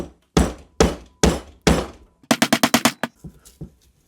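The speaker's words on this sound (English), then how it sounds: "Let's try and split the face grain of this piece." Repeated blows strike a piece of MDF while trying to split it along the face grain: four heavy, evenly spaced thuds, then a quicker burst of about seven sharper knocks and a few softer taps, close and loud with no talking.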